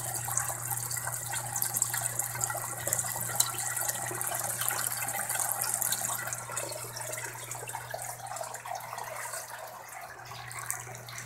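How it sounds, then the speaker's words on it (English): Water draining through the overflow of an aquaponic fish tank down into the sump, a steady close trickling and gushing flow with a low hum underneath, no voices. "the water is already coming through the overflow, so it goes down out of the fish tank"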